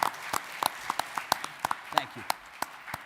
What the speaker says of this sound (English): And I think we owe him and his team a big round of applause.